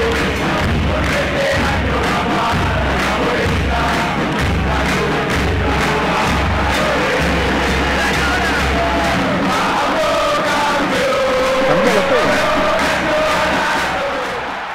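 A roaring stadium crowd at a Boca vs River match in PES 6, loud and continuous with chanting and yells, plus rhythmic low drumming through the first part.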